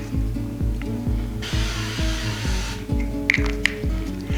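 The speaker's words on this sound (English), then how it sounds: "spray just some spray olive oil on the bottom to keep the ground turkey from sticking" A short burst of olive oil cooking spray hisses for about a second over a repeating mechanical hum, followed by a few light clicks.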